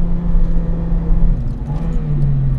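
Honda Integra Type-R, naturally aspirated, accelerating out of a corner, heard as a loud steady engine drone with road rumble from inside the car, pitch rising slightly toward the end, no talking.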